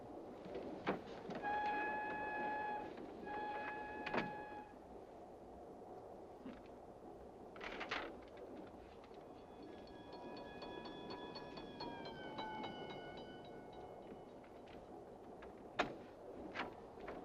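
Radio drama train effect: a quiet, steady rumble of a train riding along on the way out of Paris, overlaid with faint, sustained whistle-like tones and occasional sharp clanks, no voices.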